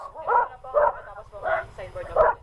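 A dog barks four times in an even rhythm, close and fairly loud, along a trail toward the Kulikuli cold spring in San Luis, Aurora.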